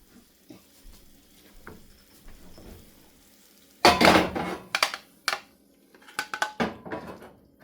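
Pasta arrabbiata is plated with clattering dishes and cutlery, quiet scraping giving way to a loud burst of clinks and scrapes around four seconds, then several sharper metallic knocks.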